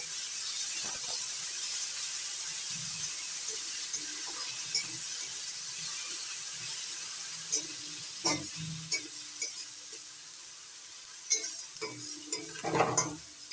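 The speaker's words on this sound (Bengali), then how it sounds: "পেঁয়াজ বাটা ভেজে নিয়ে এবার আদা রসুন বাটা দিয়ে দিচ্ছি ভালো করে ভেজে নিচ্ছি" Onion paste frying in a pan with a steady sizzle throughout, punctuated by occasional scrapes and clinks of a utensil stirring against the metal, close and moderately loud, with no talking.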